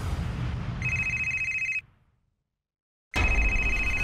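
An indoor telephone rings in two bursts, a loud electronic trill that stops, leaves a second of silence, then starts again.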